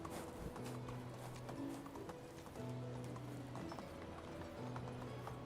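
Horse hooves clip-clopping in Medieval Dynasty, a steady close rhythm of trotting hoofbeats running the whole way under a background musical drone.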